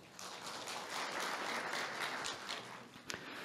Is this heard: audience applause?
yes